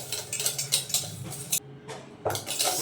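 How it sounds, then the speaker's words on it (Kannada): Metal spoon scraping and clinking against a bowl while oil and mango batter for an eggless, no-oven mango rava cake are stirred, a run of quick close scrapes that stops briefly and then resumes. "ಸೊ ಎಣ್ಣೆ ಮತ್ತು ಮ್ಯಾಂಗೋ ಏನು ಇತ್ತೋ ಅದು ಚೆನ್ನಾಗಿ ಮಿಕ್ಸ್ ಆಗಬೇಕು"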